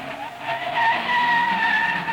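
Engines of 1962 Formula 1 racing cars at the French Grand Prix, heard in a high, strained note that climbs and wavers as the cars pass, with a sharp tire-squeal quality, loud and fairly close, with no voices.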